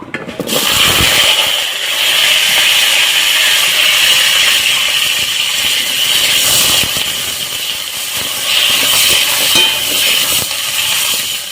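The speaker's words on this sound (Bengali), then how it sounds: "কাঁচকলা আলু ছেড়ে দিচ্ছি মাছের ঝোল করার জন্য" Raw banana and potato sizzle in hot oil in a kadai, a loud, continuous hissing fry that holds steady throughout with a few brief clatters near the start.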